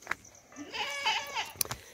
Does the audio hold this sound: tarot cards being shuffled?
no